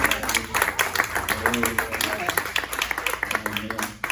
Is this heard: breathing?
no